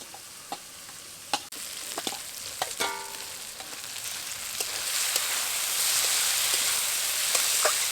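Fried potatoes drop into a cooked-down spice paste in hot oil for a village-style Bengali magur fish curry, with crackling sizzle, scattered ticks and stirring clatter that swell into a steady frying hiss.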